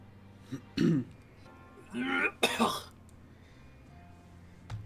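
Someone at a tabletop game session coughs and clears their throat in a few short, rough bursts close by, separated by quiet gaps, with a brief bit of voice.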